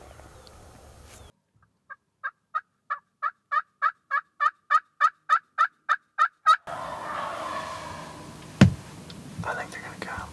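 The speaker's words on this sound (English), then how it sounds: "We got a couple birds gobbling right on the little ridge right here." Wild turkey gobblers on a ridge in Nebraska gobble in a rapid run of a dozen-plus repeated notes, moderately distant, followed by rustling and a sharp knock near the recorder.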